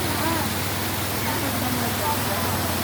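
Water rushes steadily downstream through a shaded forest canal, a constant broadband roar with a faint voice partly buried beneath it.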